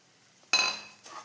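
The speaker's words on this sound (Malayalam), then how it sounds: "ഇനി ഇതിലേക്ക് നമുക്ക് റവ ഇട്ട് കൊടുക്കാം" Semolina tips into a pan for rava kesari with one sudden rattling clatter that fades, followed by a softer second scrape as it is stirred.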